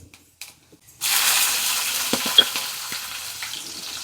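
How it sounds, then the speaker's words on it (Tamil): Cumin, fenugreek, green chillies and garlic hit hot oil for a sundakkai vatha kuzhambu: after a second of quiet and a few small knocks, a sudden loud sizzle erupts and holds steady with crackling pops, close up. "இந்த 3 நல்லா பொரிஞ்சு வந்ததுக்கப்புறம் நம்ம பச்சை மிளகாயும் பூண்டையும் சேர்த்துக்கலாம்."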